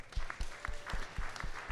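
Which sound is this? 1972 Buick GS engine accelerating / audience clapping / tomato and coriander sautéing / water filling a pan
audience clapping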